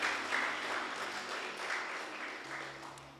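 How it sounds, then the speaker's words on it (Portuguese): A church congregation applauding during a sermon, a soft, even patter of many hands heard at a distance, faint and continuous with slight swells, and a low hum beneath. "Você pode aplaudir o Senhor?"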